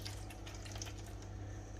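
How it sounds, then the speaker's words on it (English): Water poured from a container into a roasting pan around a tandoori lamb leg, a steady close pouring and trickling wash running the whole time under a low background hum. "I'm just going to put some water in"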